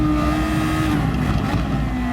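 A race car engine pulls hard in third gear around Suzuka in a racing video game, a loud, steady, close-up roar running throughout with no letup and no talking.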